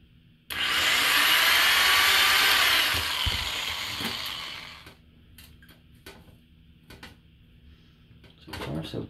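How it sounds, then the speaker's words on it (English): A power drill bores into the center of a part from a Department 56 Christmas Candy Mill North Pole village piece, a loud steady whir lasting about four seconds before stopping, followed by faint scattered handling clicks. "I'm trying to drill directly in the middle of this"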